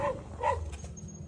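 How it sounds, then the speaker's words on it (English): A dog gives a couple of short yipping, whimpering barks close by, each lasting only a moment, followed by quieter background noise. "waiting for the dog to bark at him"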